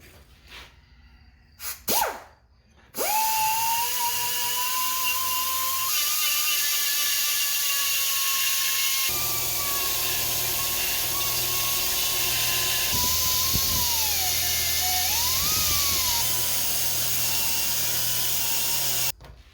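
A power grinder cuts back weld beads beside a bolt hole on a 1963 Ford Falcon intake manifold for a 2.3 turbo setup. After a few brief knocks, it runs as a continuous, close, high whine whose pitch dips and wavers as the tool bites.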